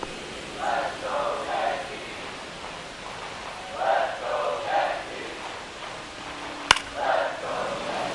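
A baseball stadium crowd during an at-bat rises in several swelling waves of cheering and chanting, with a sharp bat-like crack near the end, over steady ambient noise.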